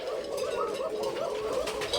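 Soft pigeon cooing repeats close by in low, rolling murmurs for a couple of seconds.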